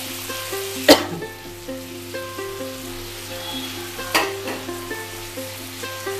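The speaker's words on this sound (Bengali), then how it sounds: "আখের গুড়টা দেওয়ার পরে এটা আমি নাড়তে থাকবো।" Chalta chutney with sugarcane jaggery stirred in a pan, a steady sizzle with soft repeated scraping strokes and two sharper clanks, close and alone.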